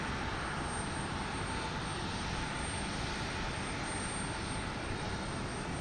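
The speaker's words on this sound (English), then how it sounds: "Flight 1301, a MAX 8, which is getting ready to take off for Vancouver." Boeing 737 MAX 8 airliner, flight 1301 bound for Vancouver, on its takeoff run at Houston Intercontinental, a steady, loud broadband engine roar that holds constant throughout with no voices.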